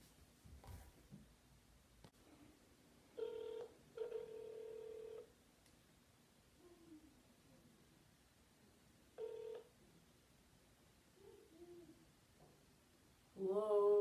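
Telephone dialing tones followed by ringback tones for a prank call, heard as short electronic beeps and a few spaced rings over a quiet background, with no talk.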